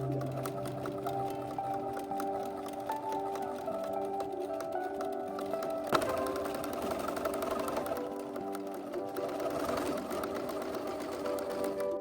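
A sewing machine stitching a 5/8-inch seam on a Renaissance-style dress gives a fast, even mechanical chatter that runs steadily throughout, close and moderately quiet, with a brief knock midway.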